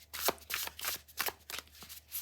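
Tarot cards shuffle close by in a series of quick riffling bursts, about five crisp papery flutters in rapid rhythm, heard alone without talk.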